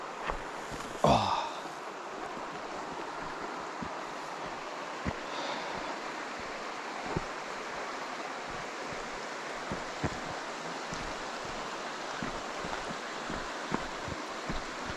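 A small brook flows steadily in Gunnerside Gill, a broad, soft water rush running throughout with faint wind, a brief louder knock near the start and scattered small clicks.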